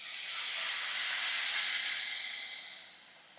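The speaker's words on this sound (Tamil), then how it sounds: "புளி ஜலத்தை வந்து விட்டுருவோம்." Loud hissing sizzle of tamarind water hitting a hot pan of sweet potato curry, swelling briefly and then fading away toward the end.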